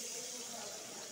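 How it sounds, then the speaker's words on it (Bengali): Water poured into a pan of fried pointed gourd, a soft continuous hissing splash of liquid, faint and steady over the brief moment. "এখন সামান্য, বেশি না অল্প করে জল অ্যাড করে দিব"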